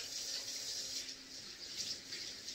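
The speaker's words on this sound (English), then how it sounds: "I'm going to wash my hands one more time." A kitchen tap runs steadily for hand washing, a soft continuous hiss of water with faint splashing variations, quiet and alone.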